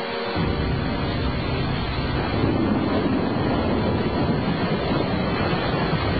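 A loud, dense rush of water fills the scene after a short pause at the start, a steady roaring surge like a flood arriving, unbroken and close with heavy low rumble.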